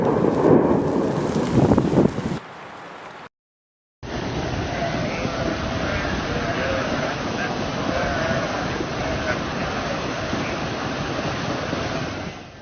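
Thunderstorm with heavy rain in Riyadh, Saudi Arabia, a dense constant roar of downpour with rumbling, split by a short break before the rain resumes loud and continuous.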